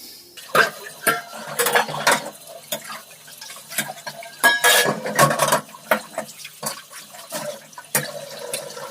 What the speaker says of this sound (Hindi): अब मेरी बारी है बर्तन धोने की, ठीक है। सो मैं जल्दी बर्तन धोता हूँ